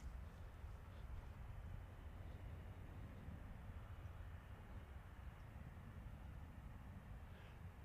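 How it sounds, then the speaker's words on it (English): A Ryanair passenger jet takes off from runway 22 at London Stansted Airport, a distant, steady low engine roar mixed with wind rumble that holds at a constant faint level. "That's a takeoff runway 22, Ryanair 80 kilo."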